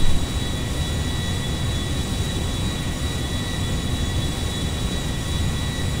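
An Embraer E175-E2 jet takes off in the video game GTA 5, a steady, dense engine roar with a thin constant whine above it and no voices.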